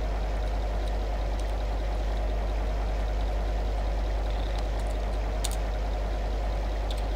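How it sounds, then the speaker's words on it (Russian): Steady rain in Euro Truck Simulator 2 pours as a constant, even hiss and patter around a MAZ 5432 truck, unbroken for the whole stretch, with no voices. "Я забыл проверить дождь"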